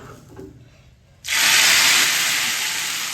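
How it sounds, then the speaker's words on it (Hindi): Sudden loud sizzle erupts after a quiet moment as a tadka tempering hits hot oil, a sustained hissing crackle that stays strong and close, fading slightly at the end. "अब मुझे लगाना है यहाँ पे तड़का।"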